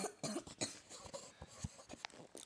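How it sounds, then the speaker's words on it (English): A person coughs several times in short harsh bursts during a Minecraft gaming session, the coughs close and fairly quiet, spaced irregularly with throat noise between them. "I need to cough again."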